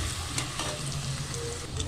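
Paneer pieces fry in hot oil with a dense, continuous sizzle and faint stirring, close and fairly loud throughout.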